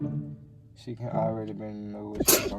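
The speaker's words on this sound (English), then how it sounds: "Did you just sneeze on me?" A single sharp sneeze bursts out near the end, right after someone speaks.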